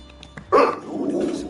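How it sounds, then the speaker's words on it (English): A dog gives a single loud, close bark, followed by a lower rough growling tail, with faint background sound from a game session. "Stop barking."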